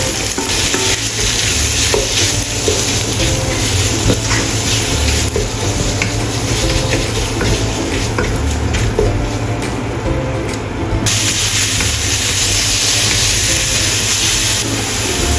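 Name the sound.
stir-frying minced meat with garlic in a wok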